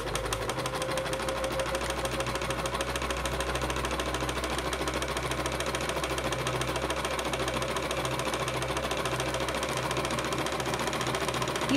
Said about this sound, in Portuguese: Você escolhe um ponto e começa. E você vai ver que eu vou fazer bem sem rumo a nossa costura.